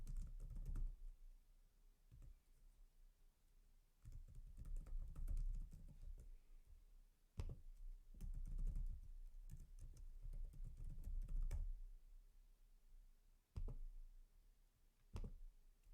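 Someone types a name on a computer keyboard while setting up a new digital ID; steady bursts of close, crisp key clicks come in clusters separated by short pauses, with no talking.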